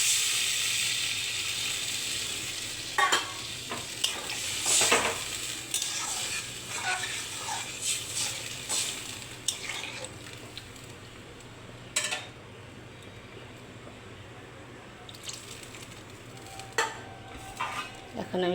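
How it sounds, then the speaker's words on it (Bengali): A potato and pointed gourd curry in a pan, with soft sizzling, scattered utensil clinks and stirring scrapes, fairly quiet and close, with no speech. "কষানোটা হয়ে গেছে, এখন পরিমাণ মতন জল দিয়ে দেবো।"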